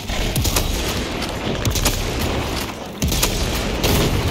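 Rapid gunfire and heavy booms from the video game Warhammer 40k: Space Marine 2 during a fight with a Lictor, loud, dense bursts overlapping continuously throughout.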